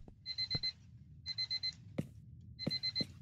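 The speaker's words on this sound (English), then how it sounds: "I'm guessing that's the alarm clock right there." A video game alarm clock in Paranormal Investigators rings in repeated bursts of rapid electronic beeps, loud and close, with a few soft thuds between the bursts.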